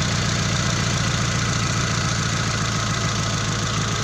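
Mitsubishi T120SS fuel-injected engine idling while warm, a steady loud drone with an even low throb running unbroken throughout.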